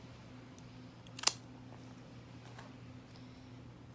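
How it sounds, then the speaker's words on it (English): A single sharp snip as scissors cut diagonally through an orchid stem, close and brief, over a quiet room with a steady low hum. "now I have to cut a little bit the extreme of the stems"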